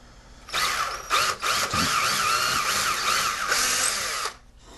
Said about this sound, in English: I'm going to go with a little bit bigger drill bit and drill these through these pilot holes.